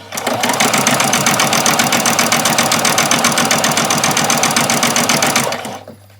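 A sewing machine stitches straight along a doll's dress seam, sewing over the pins, with a loud, close, continuous rapid needle rattle that runs steadily and then stops abruptly near the end.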